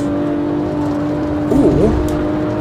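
BMW 1M Coupe driven on the Nordschleife in the Assetto Corsa racing game, its engine holding a steady drone, then briefly rising and falling in pitch with a quick shift or rev change before settling again.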